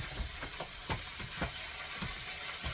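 Pork chops frying in a pan, a dense, loud, continuous sizzle with repeated soft thumps and scrapes as the meat is moved and turned, close up and without talking.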